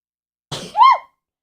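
A single short sneeze from a person, an abrupt burst followed by a brief voiced tail, close to the microphone and alone in otherwise silent surroundings.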